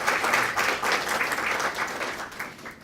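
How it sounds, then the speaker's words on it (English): A crowd claps for students at a Student of the Month recognition event, loud dense applause that swells and fades slightly over a few seconds with no talking. "Let's give them a round of applause"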